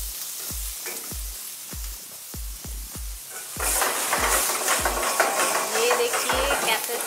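Chopped onions fry in a hot pan in a home kitchen, a steady crackling sizzle rising louder partway through, with sharp periodic clicks or knocks repeating under it.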